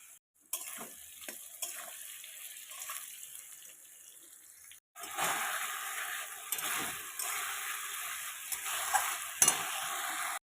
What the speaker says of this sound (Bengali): এই যে মাছ ভাজছি